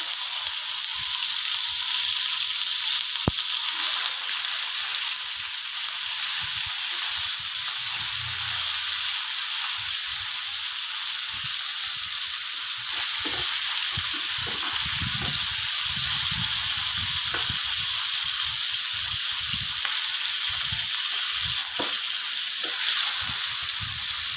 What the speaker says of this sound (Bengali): তেলটা খুব ভালো মতো গরম হয়ে গেছে এবার আমি মাছগুলো একটা একটা করে দিয়ে দেব ভাজার জন্য